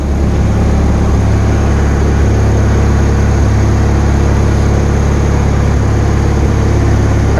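A Bolens Grounds Keeper tractor engine runs steadily and loudly up close, a constant low droning rumble with no pauses while the plow is raised.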